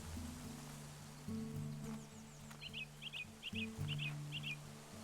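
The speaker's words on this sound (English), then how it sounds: "Oh, bird sounds nice." Birdsong in the video game Botany Manor: a series of five short, repeated chirping calls sounding clearly over a steady ambient bed of soft rain-like hiss and low tonal background music.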